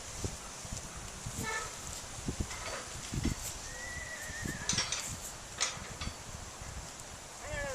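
A farm horse named Czar snorts and whinnies now and then over soft hoof shuffles and rustling, all quiet and some distance off, with faint background sounds.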